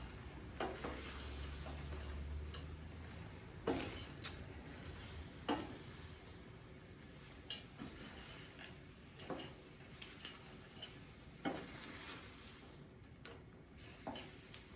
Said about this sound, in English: I'm going to let those peas cook because they're frozen.